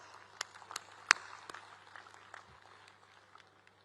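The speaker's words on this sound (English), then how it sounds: "Let us give, my dear students, our leadership team a huge round of applause." Scattered, faint applause from a distant audience at a university convocation, a few sharp claps standing out before the clapping thins and fades.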